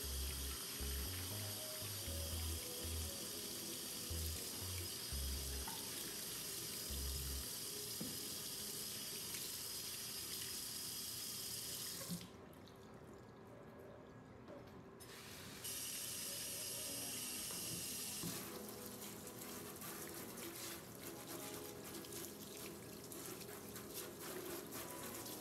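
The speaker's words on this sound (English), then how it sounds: "make sure you get the soap water in there and switch it around a little bit like that so that the soap water gets on the top" Soapy water swishes and sloshes inside a hummingbird feeder container as it is swirled, a continuous wet rinsing sound with a brief quieter pause midway and no talking.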